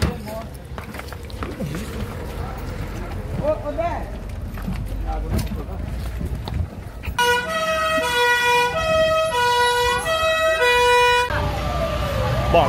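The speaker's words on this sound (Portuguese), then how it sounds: "agora acaba de chegar o corpo de bombeiros" Fire engine siren of an arriving fire brigade at a burning house, its wailing sweeps starting partway through and continuing loud to the end, after a stretch of crowd noise and people talking.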